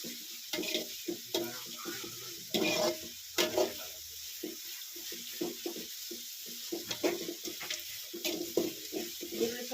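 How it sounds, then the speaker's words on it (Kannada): Onion and fenugreek greens fry in hot oil for an upama with field beans, a steady sizzle broken by frequent scraping stirs of a spoon against the pan, close and continuous. "ಸೊಪ್ಪು ಎಣ್ಣೆಗೆ ಚೆನ್ನಾಗಿ ಫ್ರೈ ಆಗಬೇಕು"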